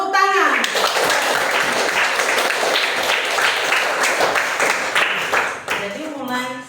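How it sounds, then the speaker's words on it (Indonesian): A group claps in a classroom setting, brisk loud clapping that fills most of the stretch, with a voice speaking briefly before it starts and again as it dies away. "Iya, tepuk tangan"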